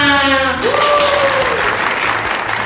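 Crowd applause at an Indonesian MC event opens with a brief sung or drawn-out voice, then settles into steady, close clapping that fills the rest of the moment without letting up.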